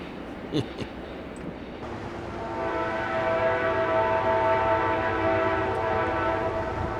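An eastbound Amtrak California Zephyr passenger train near the Moffat Tunnel approaches, opening with faint knocks and a quieter stretch before a sustained rumbling roar with tonal engine drone builds and holds as the train passes.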